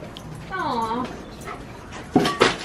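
Two dogs whimpering and yipping as they play together, with high whining cries near the start and sharper yips toward the end, under a person's voice.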